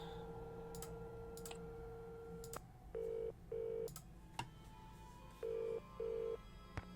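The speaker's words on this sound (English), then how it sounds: "I should call Bess and Ed. I have the phone card" Telephone dialing in the Nancy Drew game The Haunting of Castle Malloy: a run of clicks followed by two pairs of steady, loud ringback tones over a low hum, with no speech.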